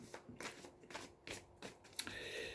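Oracle cards being handled and drawn from a deck, a close, soft papery shuffling with several brushing swipes and a small snap near the end, no voices over it.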